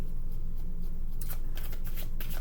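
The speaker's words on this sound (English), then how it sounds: "I'm going to keep shuffling." Tarot cards being shuffled by hand in a steady run of papery riffles and soft slaps, close and continuous, with no voices.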